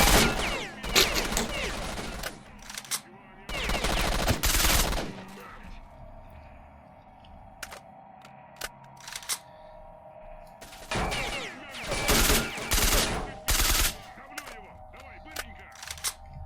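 Gunfire in the video game S.T.A.L.K.E.R.: Shadow of Chernobyl, loud automatic bursts early and again near the end with scattered single shots between, over a low ambient hum.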